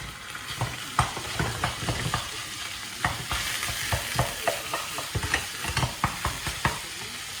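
Chopped onion, garlic and 5% lean beef fry together in a pan, a soft continuous sizzle punctuated by frequent sharp scrapes and knocks of a utensil stirring at a brisk, uneven rhythm.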